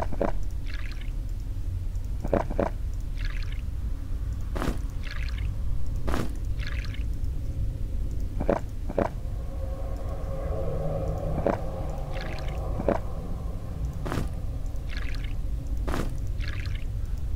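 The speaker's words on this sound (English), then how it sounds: "Let's fill up our water skins again." Water pours and trickles into leather water skins at a dungeon fountain in Legend of Grimrock, a steady liquid gurgle over low ambient hum, punctuated by several sharp drips or clicks.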